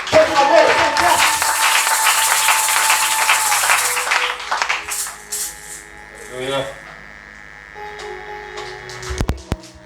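A church congregation claps loudly and densely for about four seconds, then the applause fades away while sustained tones and scattered sounds follow.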